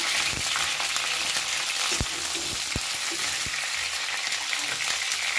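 Cauliflower frying in oil in a pan over a high gas flame, a loud, constant sizzle broken by a few clacks from stirring.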